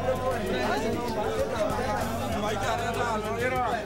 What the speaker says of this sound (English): You will see and hear the excitement as people began to come, and the crowd gradually grew